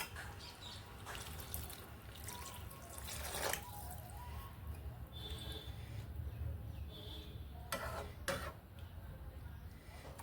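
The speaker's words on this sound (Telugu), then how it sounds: "కొంచెం నీళ్లు పోయాలి." Water being poured into a cooking pot while preparing a tamarind curry of brinjal and drumstick, a quiet steady trickle and splash running for several seconds at close range.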